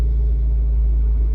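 Abarth 595C Turismo convertible with a 1.4 turbo engine gives a deep, steady exhaust rumble at idle, a continuous low throb heard close and alone for a brief moment.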